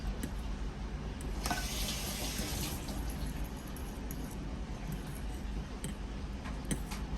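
A cup of water is poured into cooking food, a steady soft splashing trickle for several seconds, with faint clicks and light kitchen clatter in the background.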